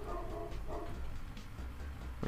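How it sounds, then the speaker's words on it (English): A dog barks indoors in a few short, muffled bursts spaced through the moment, fairly faint against a steady background of game sound. "You guys probably hear my dog barking."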